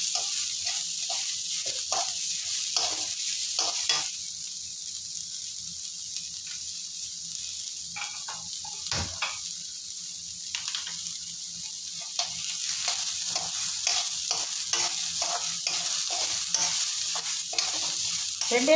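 Green chillies and curry leaves fry in a pan for a Tamil cholam paniyaram meal, a steady close sizzle under a run of quick scraping stirs and light clicks, with no talk.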